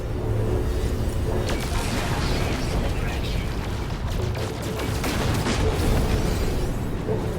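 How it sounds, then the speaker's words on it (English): Top-mounted ship gun firing with explosions in the space game No Man's Sky, a dense continuous barrage of booms and bursts running loud throughout, with a voice faintly mixed in. "The gun on the top shooting."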